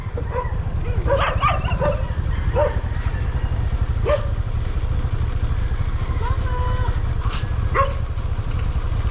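Several dogs bark and yip in short bursts over a loud, continuous engine rumble, with some brief voices mixed in.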